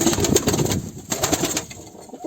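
Arab breed pigeons coo in a close, continuous murmur of soft, throaty calls, and nobody talks over them.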